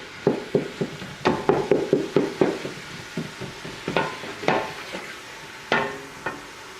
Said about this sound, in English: You can hear it's got a beautiful sear going on